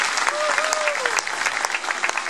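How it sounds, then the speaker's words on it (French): An audience claps loudly and continuously, a dense wash of applause from a large crowd throughout, with a brief whistle-like tone rising above it early on. "Je vous demande de les applaudir très fort."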